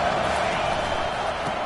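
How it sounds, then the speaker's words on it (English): Stadium crowd noise at an American football game on third down, a dense, steady roar of many voices sustained loudly throughout without a break. "Decibels rising as the crowd gets behind this defense on third down"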